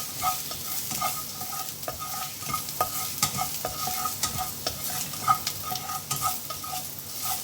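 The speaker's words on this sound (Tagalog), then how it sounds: "ginigisa ko na yung minced garlic" Minced garlic crackles in a pan while a utensil scrapes and taps in a brisk, repeated rhythm over a constant, close sizzle.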